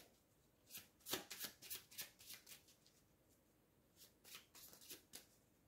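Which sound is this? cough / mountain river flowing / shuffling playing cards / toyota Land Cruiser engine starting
shuffling playing cards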